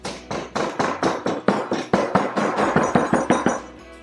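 Repeated packing of foundry green sand with the flat edge of an angle iron: about a dozen firm, evenly spaced thuds over four seconds, loud and close, with no talking.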